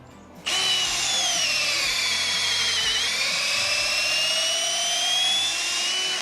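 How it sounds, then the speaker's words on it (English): After a brief quiet moment, a power drill whirs up, drilling a hole in a tree for sap tapping, and runs steadily with a high, whining motor tone, its pitch dipping slightly midway. "we go out and we drill holes in the trees"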